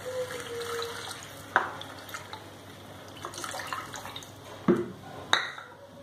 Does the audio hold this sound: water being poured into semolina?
yes